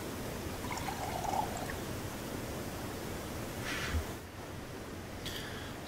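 Water being collected in the Grim Tales 2 video game, a steady broadband pouring wash running throughout, with a faint brief tone early and short bright splashy bursts near the end.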